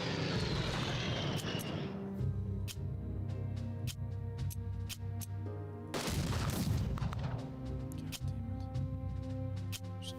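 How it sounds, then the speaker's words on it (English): Aerial bombing run in the strategy video game Unity of Command II on the Barbarossa front, with droning aircraft engines and a burst of loud booming explosions around the middle, no talk. "We could try bombing these guys a little bit."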